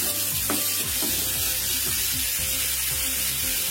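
Balinese spice paste fries in a pan on a worn stove, a steady, loud sizzle that runs throughout with soft scraping from stirring underneath.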